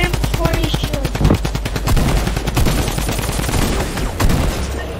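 Rapid gunfire in the Fortnite battle royale game cracks out in dense, fast bursts of repeated shots, loud and close, with a few heavier impacts mixed in and speech faint underneath.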